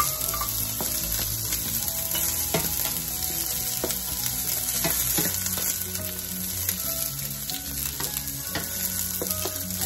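Onion and garlic sizzle steadily in a hot pan for pork menudo, a close, continuous frying hiss broken by scraping stirs and light clinks of a utensil against the pan.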